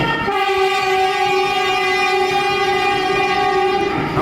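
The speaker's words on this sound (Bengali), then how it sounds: "আমাদের ট্রেন যাত্রা শুরু করলো কুয়াশার মধ্যে দিয়ে।" A Rupasi Bangla Superfast Express passenger train running between Santragachi and Purulia starts off through thick fog, its horn sounding one long, loud, steady blast over a low rail rumble.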